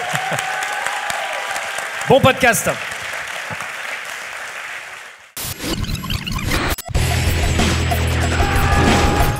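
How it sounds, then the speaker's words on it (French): A live podcast audience applauds briefly, a short burst of clapping amid talk, then a crash and loud theme music take over. "on lance les applaudissements, sous vos applaudissements"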